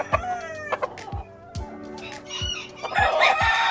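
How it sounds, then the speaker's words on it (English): Chickens on a Tennessee farm cluck and call repeatedly near the microphone, with a rooster's crow and a rapid burst of chick peeping rising toward the end, no one talking. "Those are the chicks you see."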